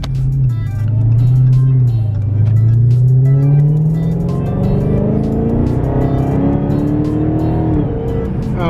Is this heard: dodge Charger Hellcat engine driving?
yes